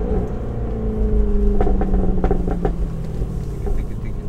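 Jaguar F-Type V8 S, 500 hp and rear-wheel drive, held sideways in fourth gear on a wet road, its V8 a loud continuous rumble and whir close by, with a few sharp crackling pops partway through.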